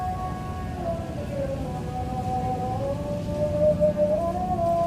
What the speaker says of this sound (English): I don't know if you guys can hear that, but it is prayer time. It's Maghrib prayer